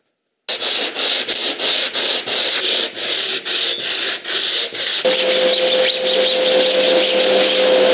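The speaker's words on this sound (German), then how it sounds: "Ich habe das beigeschliffen, einfach mit einem Schleifklotz und 100er Papier." Rhythmic back-and-forth rubbing of a sanding block with 100-grit paper across a stone countertop edge, steady strokes close up, turning into a continuous scraping with a faint hum.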